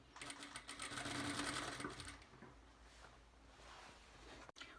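A sewing machine runs steadily, stitching the seam of a summer dress at a 1.5 cm allowance, loud and continuous for about two seconds before slowing and fading into quieter handling sounds, with a brief click near the end.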